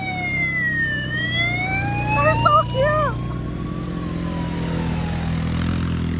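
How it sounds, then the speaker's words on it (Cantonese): Small fire truck sirens on Lamma Island, Hong Kong, wail in slow rising and falling sweeps over engine rumble, while a voice speaks briefly partway through. "These are the little fire trucks."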